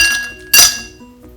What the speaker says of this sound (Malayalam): ആദ്യം നമുക്കിതിലേക്ക് കുറച്ച് ഐസ് ക്യൂബ് ചേർക്കാം.